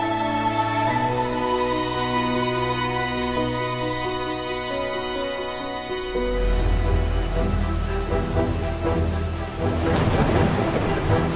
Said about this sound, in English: the lightning is flashing, the waves are splashing. The wind is at your back